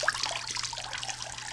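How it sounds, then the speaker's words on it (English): Warm water runs from a tap to rinse a duck, a steady close splashing trickle with a few brighter drips at the start, no voices. "Some nice warm water. This is nice and warm."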